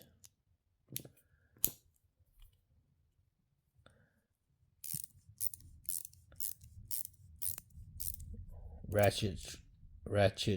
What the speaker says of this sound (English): And this is a ratchet